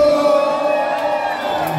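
A party crowd at an eighteenth birthday celebration cheers and yells for the waiter, sustained overlapping whoops and shouts from many voices, loud and close, holding steady throughout.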